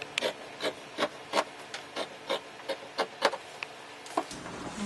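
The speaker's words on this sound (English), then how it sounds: "now I will continue cutting the outer side seam sewing allowance of the front pattern of our pants." Scissors cut along a denim pants pattern, trimming the side seam allowance in a steady run of crisp, evenly spaced snips, close and alone.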